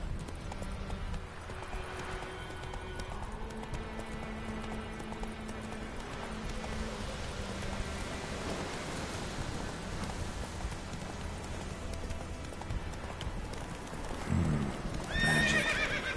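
Hooves clop steadily from a horse galloping in the Witcher 3 video game, with a neigh or whinny heard among them over a continuous rainy background, ending in a louder burst of sound.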